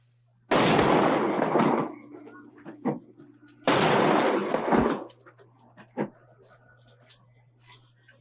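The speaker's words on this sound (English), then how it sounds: "did he shoot him?" Two loud gunshot blasts from the film Schindler's List, a few seconds apart. Each one booms with a long, harsh decay. Fainter thuds and a little talk follow over a low steady hum.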